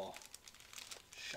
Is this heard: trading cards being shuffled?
yes